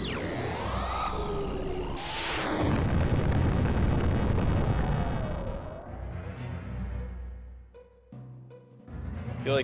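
Holy Explosion ability effect from Final Fantasy Tactics: a bright sweeping whoosh and crackling burst swell into a loud, sustained roar, then fade into shimmering chimes and a closing low thump.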